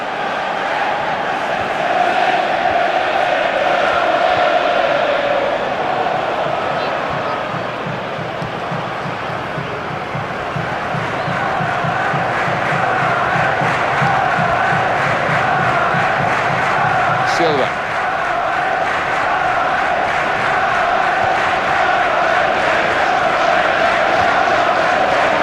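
Football stadium crowd at a match between Al Nassr and Manchester City, a loud sustained roar of cheering and chanting fans filling the space, swelling and easing, with a commentator's voice over it.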